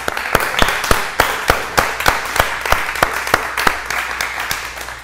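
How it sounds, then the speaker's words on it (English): A small audience at an assistive music technology conference claps, with sharp, sparse, fairly regular individual claps over a light room wash, sounding like a few hands rather than a large crowd. "so we give her a round of applause"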